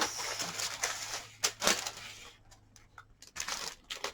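Victorian teacups are unwrapped from crinkly paper wrap, giving close, loud crumpling and tearing rustles that come in bursts, with a quieter gap before more crinkling resumes.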